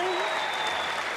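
Large crowd at a political convention rally cheering and applauding loudly and continuously, a dense wash of clapping with whistles and shouts throughout.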